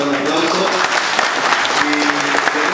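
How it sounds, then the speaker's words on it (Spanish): Audience at a 98th anniversary ceremony applauds an award-winning national chronicler, a steady burst of clapping throughout, with voices and faint tonal sounds underneath. "Vamos a dar un aplauso."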